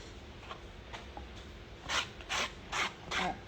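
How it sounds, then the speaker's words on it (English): Lip gloss product scraped out of a container for filling a jar, a few close, short rhythmic scraping strokes growing louder toward the end over a quiet room. "So I'm going to fill this up. Scrape it all out."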